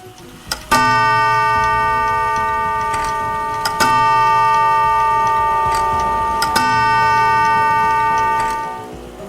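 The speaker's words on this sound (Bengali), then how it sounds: "ঢং ঢং করে বেজে উঠে দেওয়াল ঘড়িটা জানান দিল রাত বারোটা" A wall clock strikes midnight with three resonant, bell-like chimes spaced roughly three seconds apart, each ringing on and slowly decaying over a quiet background.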